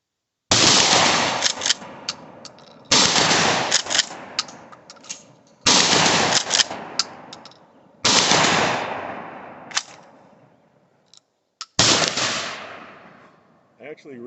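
Five loud shotgun blasts from a Stevens 320 pump shotgun, each a sharp boom with a decaying tail, spaced a few seconds apart, fired in comparison with 28-inch and 18-inch barrels.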